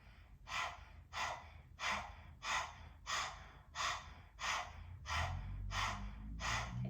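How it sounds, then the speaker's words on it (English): A person doing chair yoga pants like a dog through the mouth with the tongue out, making about ten rhythmic, breathy huffs spaced evenly and close to the mic, with a low rumble creeping in near the end. "Stick your tongue out, taking 10 dog breaths, panting like a dog through the mouth."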